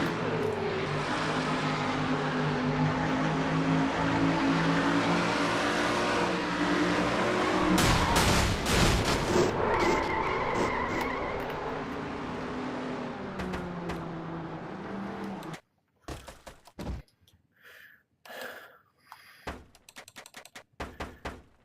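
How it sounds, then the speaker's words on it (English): In an online stock car racing sim, a pack of race cars drones with a loud, layered engine roar. Mid-race they crash with a burst of thumping impacts, then the engines drop away to sparse, scattered knocks and brief revs. "Sanford just cuts right in front of Shelton"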